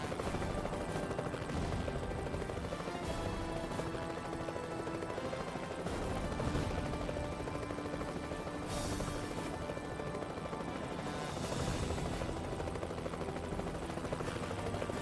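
Helicopter in the action game X2: Wolverine's Revenge, a loud continuous rotor roar with rapid bursts of gunfire and impacts layered over it, sustained throughout with no talk.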